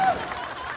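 Brief burst of audience applause at a children's talent show, welcoming a young boy performer onto the stage: dense, steady clapping close to the listener for under a second.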